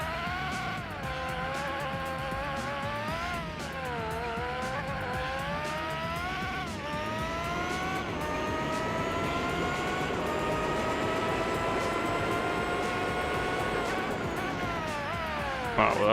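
A formula racing car in Gran Turismo 4 brakes late from speed, its high engine whine sweeping down and up through gear changes, loud and continuous with faint tyre noise beneath.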